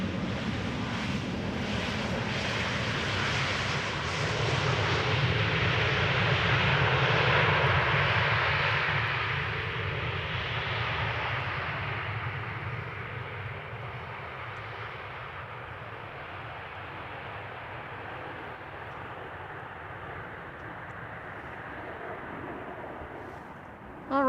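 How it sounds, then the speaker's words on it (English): A Boeing 737-800 airliner arrives at Amsterdam Schiphol, a broad, loud jet roar that swells in the first seconds and then slowly fades as it passes, with some wind noise. "a 737-800 arriving from Warsaw"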